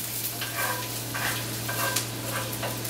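Onions and garlic frying in a pan and being stirred, giving a steady close sizzle with repeated scraping strokes.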